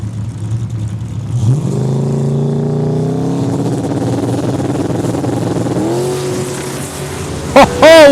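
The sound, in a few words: drag race launch of a Monte Carlo and a Mustang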